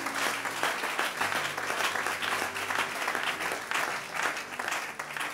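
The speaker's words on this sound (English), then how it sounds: "Clap your hands and appreciate Jesus." A church congregation claps hands in sustained, dense applause during a worship service. The clapping stays steady and close for the whole stretch, with faint voices mixed in.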